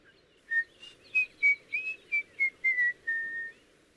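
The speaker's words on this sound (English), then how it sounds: "I just whistle, like so." A cartoon character whistles a short, bright tune of about ten quick notes, the last one held, over a faint low background hum.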